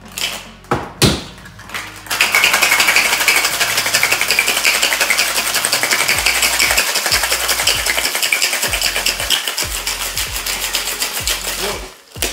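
A gin rickey is shaken hard with ice in a cocktail shaker, making a loud, dense, continuous rattling for about ten seconds. A few quieter knocks come before it starts.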